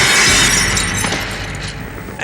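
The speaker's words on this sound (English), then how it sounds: "he smashes the fuck out of that TV" A television smashed in the 1982 horror film Halloween III: Season of the Witch, a loud, close burst of shattering glass that rings out and slowly fades over about two seconds, ending with a small final clink.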